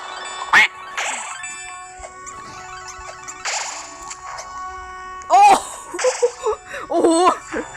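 Cartoonish duck quacks pop up repeatedly between game sound effects and music, with a few louder bursts near the end.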